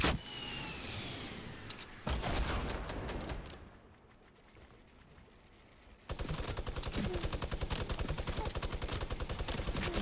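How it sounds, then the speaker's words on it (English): A minigun fires in a Fortnite Battle Royale match, bursts of rapid, dense gunfire at the start and again in a sustained stretch at the end, with a quieter gap of game ambience between. "This is my first time encountering the minigun."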